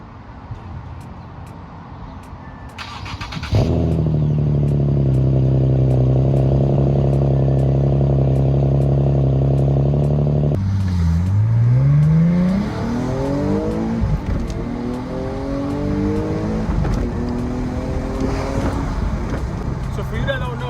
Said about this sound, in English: Let's do a quick cold start on this baby.